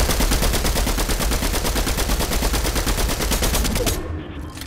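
Rapid, evenly spaced automatic weapon fire in a video game rattles loud and close for about four seconds before cutting off abruptly, with no talk.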